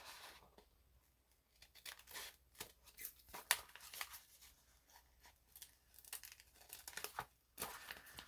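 Paper being trimmed off a handmade craft tag, heard as a quiet series of short, dry snips and crinkly rustles that come in irregular bursts with brief pauses between them, close by and soft.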